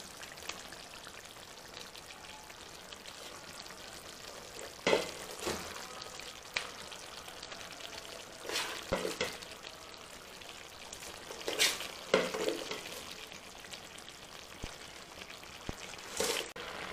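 Mashed tapioca being stirred into a crab mixture in a frying pan: soft sizzling with intermittent scraping and stirring bursts, fairly quiet and close.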